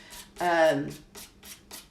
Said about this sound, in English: so I'm just sanding them down, right?